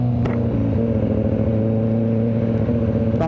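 A Kawasaki ZX-4RR motorcycle engine with an underbelly resonator idles and revs steadily up close with a deep, continuous rumble that holds for a few seconds without a break.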